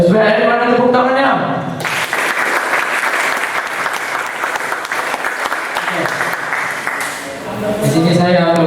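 An audience at a classroom talk on interpersonal skills breaks into dense, sustained clapping for several seconds, with a voice speaking before the applause begins and again as it fades.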